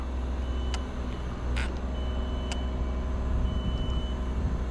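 A digger's reversing alarm beeps at a construction site where foundations are being dug for a new plant, three or four evenly spaced tones over a steady low engine rumble, heard from some distance.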